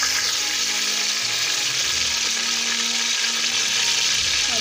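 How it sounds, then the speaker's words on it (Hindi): Hot cooking oil sizzles in a pan while aloo anday fry is being made. The hiss is dense and steady and stays loud and close from start to finish, with no voices. "ऑयल मैंने गरम करने के लिए रख दिया, ऑयल हमारा गरम हो गया।"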